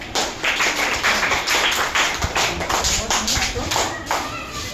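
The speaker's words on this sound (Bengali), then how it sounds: "হাততালি একটা ছোট করে।" A short round of applause for a primary school student in a classroom, with a dense burst of many hands clapping together close by over several seconds, voices mixed in.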